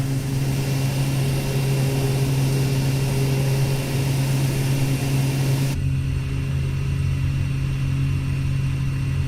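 A Pilatus PC-6 Porter floatplane engine in Microsoft Flight Simulator 2020 drones steadily and loudly as the aircraft climbs after a water takeoff, its tone shifting slightly partway through.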